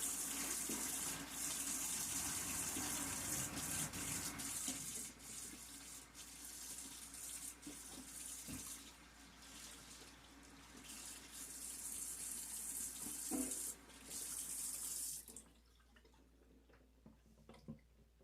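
Tap water runs steadily into a kitchen sink while dishes are washed with dishwashing liquid, a continuous broadband rush with occasional clinks and splashes, cutting off abruptly near the end and leaving quieter drips.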